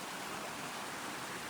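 Fast-flowing river water on a jeep safari route near Anakulam, Munnar, rushing as a loud, continuous broadband roar with no pauses or voices.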